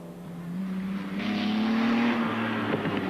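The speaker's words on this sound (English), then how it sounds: "The sports cars feature the V8 Cobras, making all the right noises." V8 Cobra sports cars race past at a tarmac rally event, engines droning loud and steady, swelling as they accelerate and then fading slightly, with a faint tire squeal.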